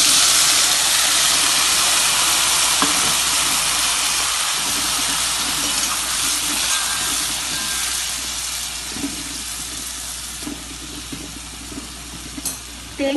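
Green beans sautéing in a pan for a beans kootu, a loud, steady hiss and sizzle close up that fades slightly toward the end, with no voices.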